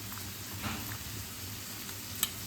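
Onions sizzle as they fry in a pan for an Ongole-style fish curry, a soft, steady hiss with occasional faint stirring taps and no voices.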